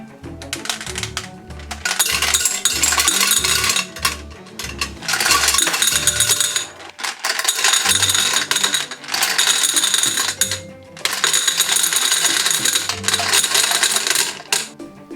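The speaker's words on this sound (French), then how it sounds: "On va la dévisser tout en haut parce que là maintenant, on va mettre quelques chewing-gums, de bubblegum de différentes couleurs" Retro candy dispenser machine having its top unscrewed and colourful bubblegum balls poured in: bursts of rattling, clinking plastic and gum balls in repeated loud runs separated by short pauses.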